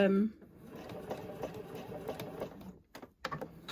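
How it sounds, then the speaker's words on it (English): A sewing machine stitches across the top and down the side of a fabric bookmark with a ribbon, a faint, uneven mechanical whirring in short bursts with brief pauses. "sew across the top, which will secure the ribbon in place, pivot, and down this last side"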